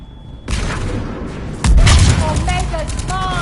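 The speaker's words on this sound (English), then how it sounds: "Under heavy fire!" Heavy gunfire in Mass Effect 3 erupts after a quiet start, a dense, loud barrage of shots with a deeper blast partway through, while voices shout over the battle.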